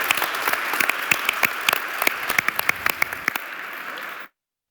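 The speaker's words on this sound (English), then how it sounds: "Let's give our panelists a round of applause" A conference audience applauds panelists after an AI panel discussion, steady dense clapping with scattered louder claps, lasting about four seconds before cutting off abruptly.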